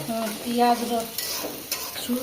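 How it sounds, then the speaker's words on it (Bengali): Okra (bhindi) fries in a pan in a village kitchen, with a steady sizzle broken by a spatula stirring and scraping through the pieces, close and fairly loud. "ভেন্ডিটা ভাজি হয়ে গেছে, আর একটু হবে"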